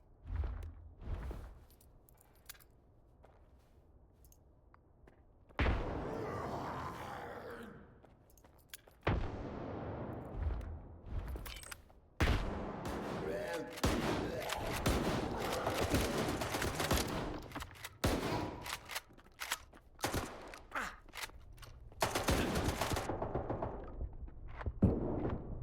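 Grenades and gunfire in S.T.A.L.K.E.R. 2: Heart of Chornobyl, with loud bursts of rifle fire and heavy blasts arriving in repeated clusters, separated by quieter gaps over a long firefight.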